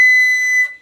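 A flute sounds a single sustained high B, fingered with the thumb on the B natural key, giving a steady, clear and fairly loud tone that lasts under a second and then stops.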